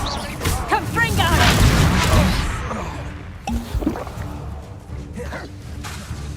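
Confringo blast spell in Hogwarts Legacy, a booming explosive burst mixed with a shouted incantation, followed by quieter impacts and combat noises.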